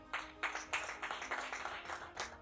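An audience at a closing ceremony for a women's empowerment and peace communication project claps in a steady rhythmic pattern, a small crowd heard at a distance, fairly faint, with no talk over it.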